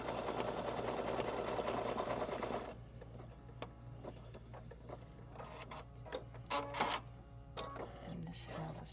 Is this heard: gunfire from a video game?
no